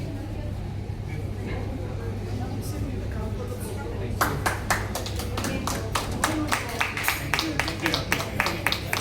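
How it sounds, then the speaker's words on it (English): A round of clapping breaks out partway through, steady claps from a small group following a stretch of murmuring room noise. "Round of applause."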